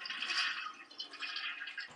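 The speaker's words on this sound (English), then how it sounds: "Time for the inaugural flush." A newly installed toilet gives its first flush, a steady rushing hiss of water that runs close and fairly loud for about two seconds, then trails off as the bowl drains.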